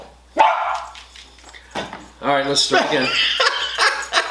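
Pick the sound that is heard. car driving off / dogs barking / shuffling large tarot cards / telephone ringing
dogs barking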